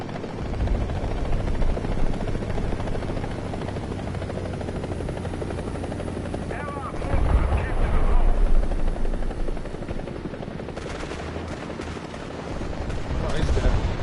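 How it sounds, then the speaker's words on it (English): An enemy helicopter in a video game rotor-thrums steadily through the whole stretch, mixed with bursts of gunfire and battle noise that swell midway. "That's an enemy helicopter."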